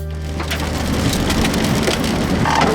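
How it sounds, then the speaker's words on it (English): Hail pours down hard during a tornado-producing storm, a dense, steady roar of impacts that stays loud and unbroken throughout, with no voices. "you need to see this hail in my stream right now"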